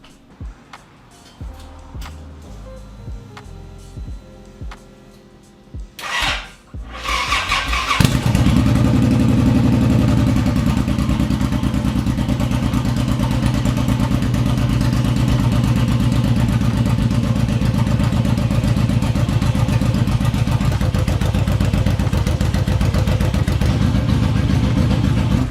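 A Harley-Davidson V-Rod Muscle motorcycle cranks over a few seconds with starter clatter, catches and settles into a loud, steady close-up idle that runs on alone for most of the span.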